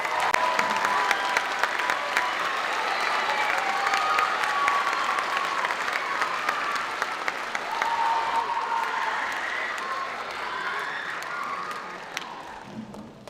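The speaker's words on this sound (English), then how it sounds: "can we please clap it out for our great assistant director, Mr. Harlan Golbe, please." Audience at a school band winter concert applauding steadily, a dense sustained wash of many hands clapping with light cheering, fading slightly near the end.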